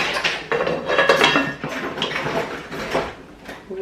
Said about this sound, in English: So I'm gonna just go ahead and put the top on it